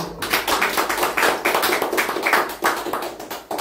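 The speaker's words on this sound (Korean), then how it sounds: "박수로 환영해 주시면 감사하겠습니다." An audience claps steadily to welcome guests being introduced one by one at a Korean gathering, with dense, sustained clapping that swells in waves and holds loud and close throughout.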